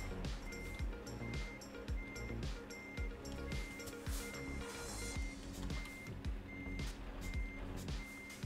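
A truck in Euro Truck Simulator 2 sounds its reversing alarm, a loud, evenly spaced series of beeps repeating over a steady engine rumble, heard up close.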